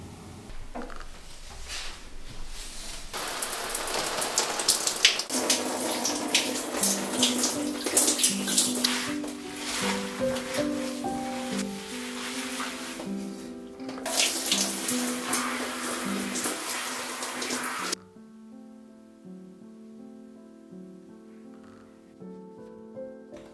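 Shower water runs in a continuous, loud hiss, with soft music playing over it. The flow cuts off near the end and the music carries on alone.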